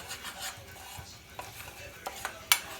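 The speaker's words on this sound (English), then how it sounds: "Add our flour to it. Keep stirring it" Flour being stirred into a sauce in a pan for chicken lasagna, brushing, scraping strokes over a soft sizzle, with a sharp utensil knock near the end, close and quiet.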